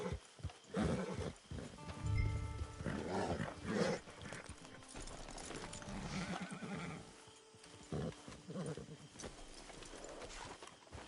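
Film soundtrack with a horse neighing and whinnying along with hooves clip-clopping at fairly close range, mixed with voices and background movement over the whole stretch.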